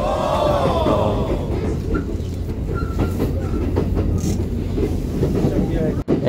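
A Kintetsu Rail train runs on its tracks with a loud, steady rumble and rhythmic clatter, heard from inside the carriage, and voices chat nearby.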